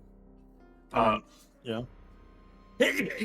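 Two quick sneezes come a moment apart during a tabletop role-playing game session, the first sharper and the second shorter. Other players talk faintly before and after.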